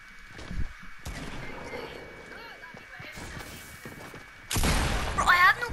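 Gunfire from a gun in a video game, scattered shots early on under game sounds, then a loud sustained burst near the end; a voice talks over parts of it.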